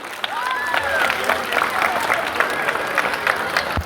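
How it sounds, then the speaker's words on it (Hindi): A school audience gathered for a Children's Day fair claps loudly and steadily for a few seconds, a dense wash of hand claps with a voice or two carrying over it. "जोरदार ताली"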